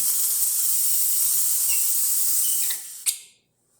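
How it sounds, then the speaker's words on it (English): A Rocket Appartamento espresso machine steam wand hisses steadily and loudly for about three seconds, then cuts off with a brief sputtering burst before fading to silence. "also the steam is working beautifully"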